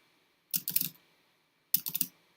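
Close typing on a computer keyboard during an online chess session, two short clusters of rapid key clicks separated by about a second of silence.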